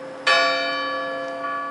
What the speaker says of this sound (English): the bell was again upon the stroke of 1